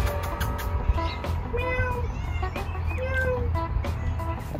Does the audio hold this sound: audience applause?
no